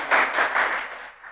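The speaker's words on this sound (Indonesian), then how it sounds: "Berikan tepuk tangan buat Tuhan." A church congregation claps, a brief dense patter of many hands that swells quickly and then tapers off within about a second.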